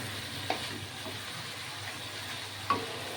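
Garlic chicken sautés in a pan with a steady sizzling hiss, and two sharp utensil knocks against the pan come about two seconds apart; nobody talks.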